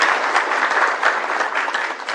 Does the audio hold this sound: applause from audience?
yes